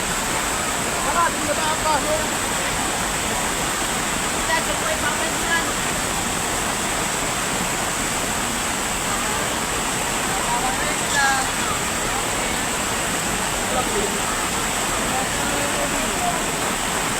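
Flood water rushes past in a continuous, loud broadband roar that stays steady throughout, with voices faintly mixed in beneath the torrent.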